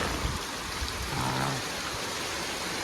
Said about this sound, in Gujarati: આવો જો વરસાદ ચાલુ છે